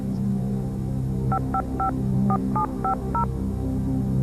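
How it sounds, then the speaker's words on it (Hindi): Seven short telephone dialing tones beep in a quick irregular sequence over a steady hum on a Hindi quiz show set, with no talk during the tones. "कंप्यूटर प्लीज प्रणब झा को फोन लगाया जाए"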